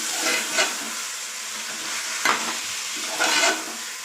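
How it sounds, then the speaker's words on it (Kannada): Chicken gizzards fry in a pan with a steady sizzle, broken by a few louder bursts of stirring and crackle as the pieces are moved. "ಇದು ಬೇಯಲ್ವಲ್ಲ ಅದಕ್ಕೆ ಫಸ್ಟ್ ಹಾಕೊಂಡು ನಾನು ಚೆನ್ನಾಗಿ ಬಾಡಿಸ್ಕೊತೀನಿ"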